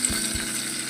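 Chopped onion hits hot oil in a pan for a vegetable daliya, giving a steady, close sizzling hiss that lasts the whole second, with a couple of soft low thumps near the start.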